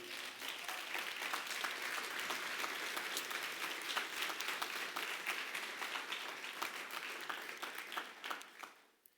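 Congregation applause during a church service, many hands clapping in a steady, dense patter for about nine seconds at moderate distance before tapering off, with no speech over it.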